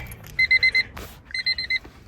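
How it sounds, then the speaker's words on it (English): Two short bursts of electronic beeping from a Honda Civic with a turbo D16 engine, each a quick run of four or five shrill, evenly spaced beeps, separated by a brief rustle; no talking. "let me turn this beeping off"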